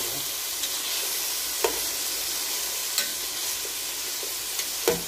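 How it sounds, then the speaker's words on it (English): Vegetables sautéing in extra virgin olive oil with curry powder and pepper for a vegetable soup, a steady soft sizzle with a few sharp stirring clacks of a utensil against the pot. "So I'm sauteing here."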